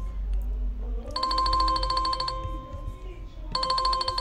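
An incoming call ringtone from a live chat support app plays in two repeated bursts of bright electronic tones, with a steady low hum underneath.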